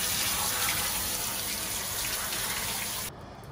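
Green beans rinsed under running tap water, a steady broadband rush of water into a sink that continues for about three seconds and then stops abruptly, with no talking.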